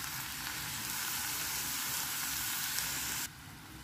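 Vegetables and chilli powder sauté in a pan over low gas heat for vegetable noodles with egg, giving a steady, close, even sizzle that cuts off abruptly near the end.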